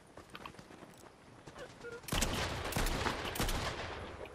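A sustained burst of Fortnite weapon fire breaks in loud and dense after a quieter stretch of faint game ambience, with rapid overlapping shots continuing to the end.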